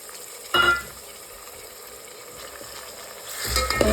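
Ginger, garlic and tomato go into a hot pan together for a village-style urad dal and rotla meal. A loud sizzling burst comes first, then a soft frying hiss, and the sizzle swells again near the end.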